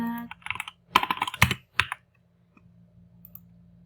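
Fingers type on a computer keyboard in quick close bursts of clicky keystrokes, then a pause, then a few isolated taps against a quiet room hum.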